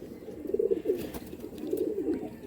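Pigeons coo in a loft of highflyer birds, soft throaty rolling calls in two short bouts, close by and clear over a quiet background.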